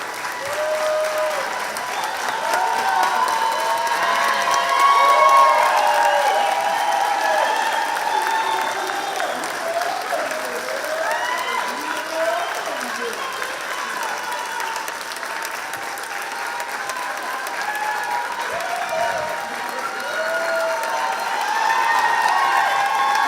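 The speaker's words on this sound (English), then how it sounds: "Round of applause for our graduates." A large audience at a graduation ceremony applauds the graduates in a long, steady wash of clapping with scattered cheers and whoops, sustained at an even level throughout.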